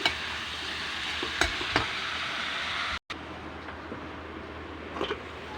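Vegetables sauté in a pan for pancit canton, a steady loud sizzle with a few stirring clacks and one brief dropout partway through.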